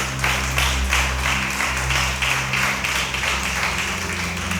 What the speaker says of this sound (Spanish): Dale ese aplauso al Espíritu Santo.